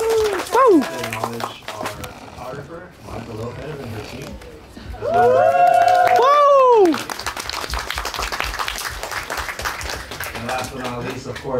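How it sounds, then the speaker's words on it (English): Wedding guests clap for the coordinator and staff, a busy burst of hands mixed with a sung or crooned vocal line and music, with voices calling out over the noise throughout. "We give a round of applause for them"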